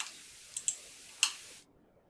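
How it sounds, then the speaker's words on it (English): A few sharp, light computer mouse clicks, close and isolated, with a quiet hiss in between while working in CAD software. "right mouse click to accept"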